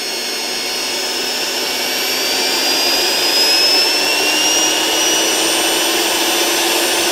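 A commercial vacuum cleaner runs steadily under electrical test, a loud continuous whine and airy roar that holds throughout and swells slightly partway through, with no talking.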